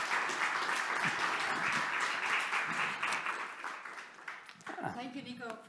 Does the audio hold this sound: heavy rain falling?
no